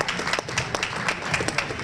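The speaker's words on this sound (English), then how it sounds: "Let's give him a round of applause." A crowd at a carnival breakfast gives a round of applause: many hands clapping in a dense, steady patter at moderate loudness, brief and unbroken.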